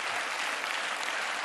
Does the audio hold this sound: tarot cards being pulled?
no